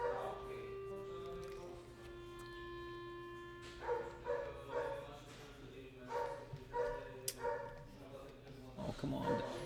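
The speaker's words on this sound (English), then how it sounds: "Someone walk the doggy." A dog barks and whines, short sharp yelps and whimpers in a bursty, uneven series, moderately close, with a person's voice and some background music underneath.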